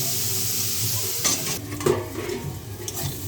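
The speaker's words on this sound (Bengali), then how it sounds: "এই নুন আর হলুদ দিয়ে আমি উচ্ছেটাকে একটু ভাজা ভাজা করে নেব।" Bitter gourd frying with salt and turmeric in a pan, a steady close sizzle with stirring scrapes and a couple of brief utensil knocks.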